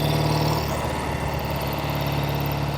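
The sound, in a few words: 1968 Triumph Bonneville 650 motorcycle engine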